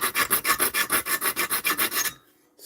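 A hand file sharpens a chainsaw saw chain, giving about fourteen close, even rasping strokes in a steady back-and-forth rhythm before stopping abruptly.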